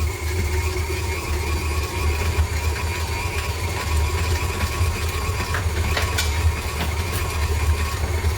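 An electric mixer creams sugar with butter for a chocolate marble butter cake, a steady near motor hum and droning whir running continuously without pause or talk.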